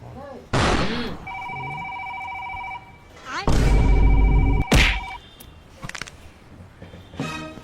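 A mobile phone rings indoors with a repeating electronic ringtone that plays in two stretches, mixed with bangs, thuds and shuffling, while people speak around it.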